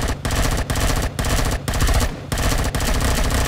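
Rapid, loud bursts of laser fire from an enemy in Empyrion Galactic Survival striking the player, a dense rattling stream broken by short gaps about every half second.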